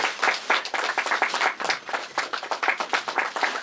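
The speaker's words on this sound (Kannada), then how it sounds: "1 2 3 ಚಪ್ಪಾಳೆ ಬರಬೇಕು" Audience applause at a movie poster launch ceremony for "1979 The Untold Story": steady, dense clapping from a crowd throughout, moderately loud, with no speech.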